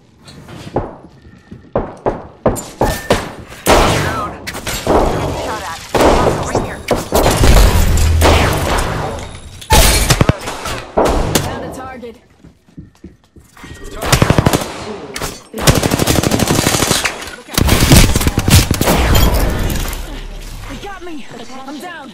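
Apex Legends gunfire crackles in repeated automatic bursts and single shots, with booms and mechanical reload clacks, loud and close, with voices talking over the fighting.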